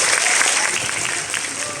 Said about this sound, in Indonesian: Kasih tepuk tangan tuh.